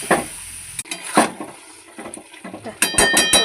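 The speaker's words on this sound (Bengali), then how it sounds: "এবার এটাকে ভালো করে কষে নেব।" A spiced mixture with tomato is sautéed in a pan, and a utensil scrapes and clinks against the metal in irregular strokes while the food sizzles softly underneath.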